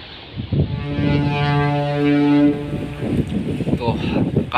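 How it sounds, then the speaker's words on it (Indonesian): Strong wind and heavy waves at Bakauheni ferry port during extreme weather, with a ship's deep horn blast sounding steadily for a couple of seconds, and people talking over the blustery noise. "karena memang ini luar biasa ya ombaknya."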